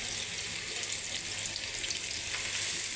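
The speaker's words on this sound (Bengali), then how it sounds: "পেঁয়াজটাকে সুন্দর করে ভেজে নিব।" Onions sizzle and fry steadily in a pan of oil, a dense continuous hiss with no voices, while being browned for a tengra fish and tomato curry.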